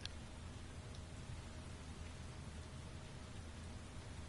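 Rain in the survival game Helios Underground Survival, a soft, steady hiss of rainfall with a low rumbling undertone, continuous and fairly faint, with no voices.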